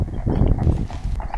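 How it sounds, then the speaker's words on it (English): Horses' hooves clip-clop on a road near Ascot Race Course, a steady rapid patter of several animals passing close by, loud and continuous with traffic rumble beneath. "we can hear the horses, and here they go"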